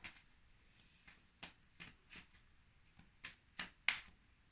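Oracle card deck (the mirrors oracle) being shuffled by hand, a series of about nine crisp riffling bursts spaced irregularly with quiet gaps between, close and soft.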